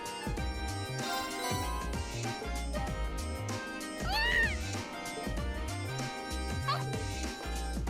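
A cat meows in the Trails of Cold Steel video game, with short rising calls heard over steady game music with a strong beat.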